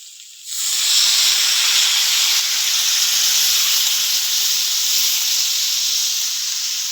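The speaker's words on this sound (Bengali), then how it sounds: "এবার আমি জল দিয়ে দেবো" Water hits a hot pan of mustard-paste curry with drumsticks and small mourala fish. After a brief quiet start, a loud, sustained steam hiss bursts up and holds steady to the end, with no voices.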